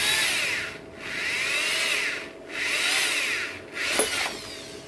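A drill bit bores into a chainsaw handle, whirring loudly in three long runs with brief pauses between them, then a shorter fourth burst ending in a sharp catch.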